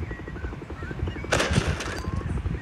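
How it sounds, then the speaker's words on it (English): Video game gunfire as a player shoots at police officers in a thief-themed game, a short sharp burst of shots midway through a busy mix of game sounds and low background noise. "Yeah, I'm just gonna shoot these cops."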